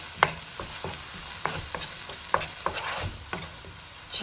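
A spoon stirs turmeric, cumin and other spices in a pot for a vegan lentil chickpea soup, irregular scraping taps against the pot over a soft sizzle, close and fairly quiet.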